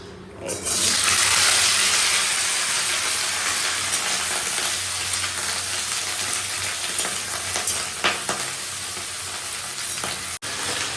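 Black cumin and dried chillies frying in hot oil for a bean dish, a loud burst of sizzling that settles into a steady crackle, with a brief clink near the end.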